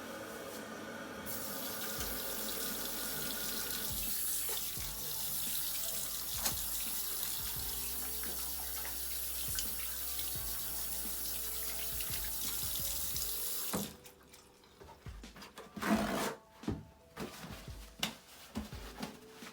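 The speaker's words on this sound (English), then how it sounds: "I'm finna go ahead and wash my hands and change my gauze." A tap runs steadily into a sink for handwashing, a continuous rushing stream at home, then it shuts off and leaves scattered splashes and handling noises.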